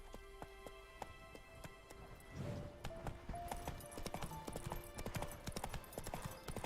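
Horse hooves clip-clopping in The Witcher 3, a steady rhythmic beat of clicks over a busy game soundscape of music and ambience, picking up pace and density partway through.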